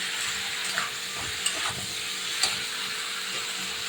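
Ground spice paste frying with country chicken (desi murgi) and radish in a pan, a steady broadband sizzle with a few soft scraping stirs, close and moderately loud, no voices.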